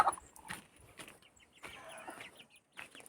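Chickens clucking in short bursts at close range, with a few brighter calls scattered through and no talking.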